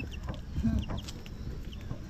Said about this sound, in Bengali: মুরগিটা কি করছে, কি বলে মুরগিটা